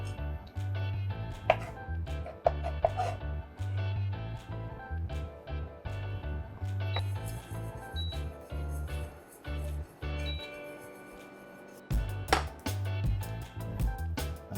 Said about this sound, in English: we're going to chop some almonds roughly